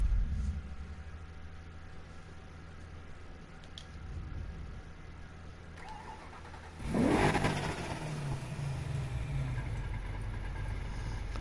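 A drag-race Camaro in Need for Speed Heat sits at a low, rumbling idle, then its engine revs up sharply and loudly before settling back to a steady, throaty drone.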